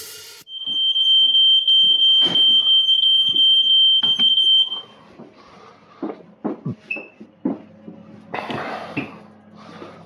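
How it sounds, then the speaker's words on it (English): A kitchen smoke alarm goes off while pizzas and croutons are being cooked in fat. It gives a loud, steady, high-pitched electronic beeping for about four seconds, then stops, followed by scattered clatters and knocks of kitchen activity. "Fire alarm just went off."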